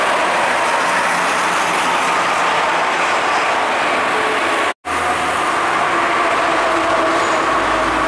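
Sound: Agramas bus passing on the toll road

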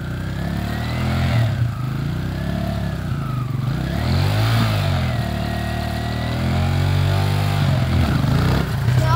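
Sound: dirt bike engine revving high

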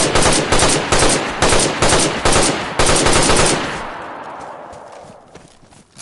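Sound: gunfire while raiding a base in the video game DayZ

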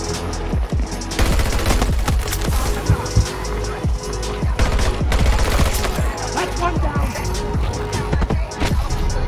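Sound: MTAR-21 rifle gunfire in the video game Battlefield 2042

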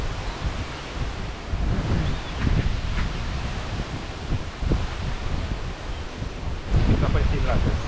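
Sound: strong wind

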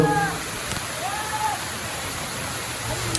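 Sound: third waterfall at Dallapalli

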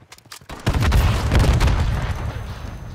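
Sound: grenade launcher explosion in Call of Duty video game

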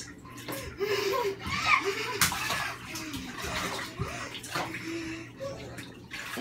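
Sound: child splashing in water

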